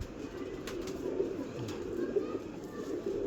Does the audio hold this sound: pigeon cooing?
yes